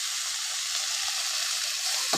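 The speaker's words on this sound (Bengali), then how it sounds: "ভেন্ডি আমার ভাজা হচ্ছে।" Okra sizzles steadily in a pan over a wood-fired clay stove, a continuous close, even frying hiss with no talk.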